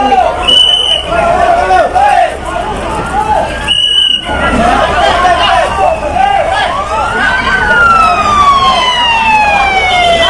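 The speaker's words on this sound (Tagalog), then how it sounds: "Nandito na po yung fire truck ng Pulilan, Kalumpit, Laridel, Malolot sa San Rafael." Fire truck sirens wail continuously at a large blaze in Pulilan, Bulacan, rising and falling tones overlapping from several arriving engines, loud and close amid crowd babble and voices.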